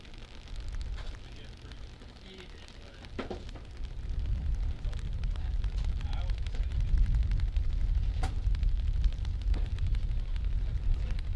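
A top fuel Harley drag motorcycle engine rumbles steadily in a final-round race setting, a loud, continuous low roar that swells and holds, with occasional sharp crackles and a voice talking over it.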